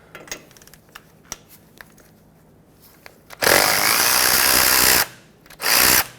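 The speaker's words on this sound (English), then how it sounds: "Let's loosen up this sleeve that holds the 2 outer tie rods together and locks them in." Power ratchet or impact tool driving a 15mm socket to loosen non-factory sleeve bolts clamping the outer tie rods on a 2000-2005 Ford Excursion, heard as two loud sustained whirring bursts, the second shorter, after quiet clicking shop background.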